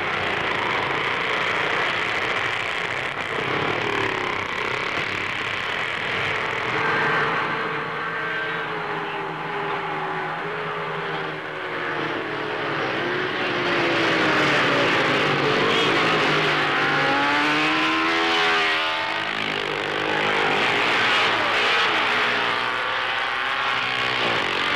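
Gilera racing motorcycles at the 1954 Dutch TT at Assen snarl past one after another, loud and sustained, with engine pitch rising and falling as they pass.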